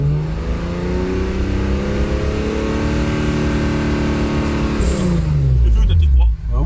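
BMW E36 engine revving and held steady near 4500 rpm for a sound meter test at a track day, loud sustained drone that drops away near the end, with people talking close by.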